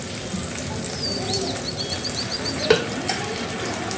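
Steady close sizzle of food frying in a little oil in a pan while cooking breakfast, with soft stirring scrapes and a couple of sharper clicks of a small ladle near the end.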